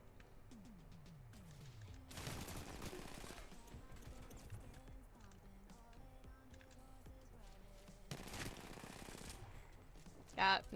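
Rapid video game gunfire in a team shooter match, with bursts of automatic fire and two dense louder volleys, heard under excited player chatter.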